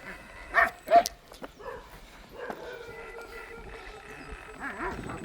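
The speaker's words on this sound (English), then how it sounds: "got a few excited dogs" Excited dogs bark in two sharp, close yaps near the start, followed by softer yips and whimpers mixed with street noise and a faint voice.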